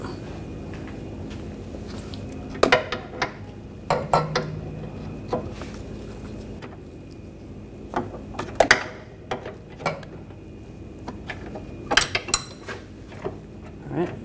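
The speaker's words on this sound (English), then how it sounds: "Use a 21mm wrench on the nut, 21mm socket on the bolt. And loosen this up." A 21mm wrench and socket loosen the inboard nut and bolt of a rear upper control arm on a 2014-2020 Nissan Rogue, with scattered metallic clinks, ratcheting and clanks at close range over quiet background hum.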